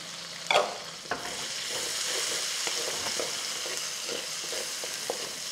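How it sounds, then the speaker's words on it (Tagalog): Chopped onions sautéing in hot oil after garlic, a steady bright sizzle with a few spatula scrapes and stirring knocks, close and continuous with no talking. "So kapag light brown na yung mga bawang natin, susunod na natin yung mga sibuyas."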